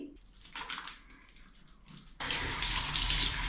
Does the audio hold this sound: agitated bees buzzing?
no